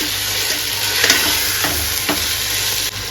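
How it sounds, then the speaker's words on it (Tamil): Vegetables and tomato for a vegetable biryani sauté in a hot pan, giving a loud, continuous sizzle with a few soft stirring scrapes. "தக்காளி நல்லா வதங்குங்க."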